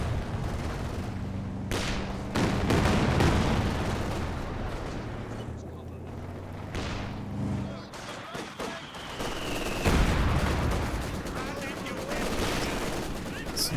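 Machine gun fire from an OKW MG in a World War II strategy game, bursts of rattling automatic shots mixed with explosions and battle noise, while a voice talks over it.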